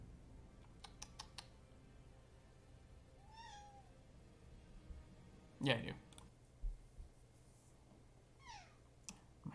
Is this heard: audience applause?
no